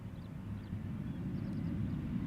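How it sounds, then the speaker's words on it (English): A KLM passenger jet arriving at Schiphol from Bremen, a low steady engine rumble heard from a distance, continuous and fairly faint with no talking. "This is KLM Flight 1762, having arrived now from Bremen."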